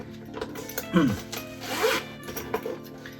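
A zipper slides open on the inner pocket of a Freitag F41 Hawaii Five-O bag, two quick close rasping pulls with light rustling of the tarp material, while someone talks.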